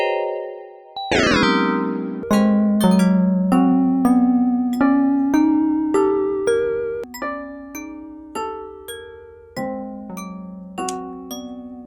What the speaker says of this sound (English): So let me see what bells I can cook up over here.